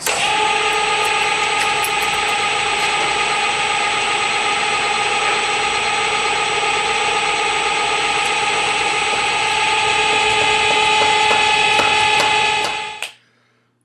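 A drill runs at 450 RPM boring 3/16 holes, making a loud continuous tonal whine with a steady hum for about thirteen seconds before it cuts off abruptly.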